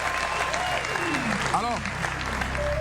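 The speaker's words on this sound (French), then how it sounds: "Est-ce que déjà on peut applaudir très fort, s'il vous plaît," An audience applauds loudly and steadily at a live French music show honoring a rapper, while a voice speaks over the clapping throughout.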